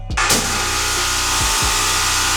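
A water spray blasts grime out from between the fins of a radiator, a loud, steady close-up hiss that starts abruptly and runs on without pause.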